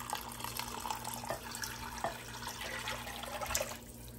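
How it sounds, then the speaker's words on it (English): Beef broth made from bouillon powder poured into a crockpot over cooked hamburger meat, a steady close liquid splash and trickle running for several seconds before cutting off near the end. "I'm going to be adding 4 cups of beef broth"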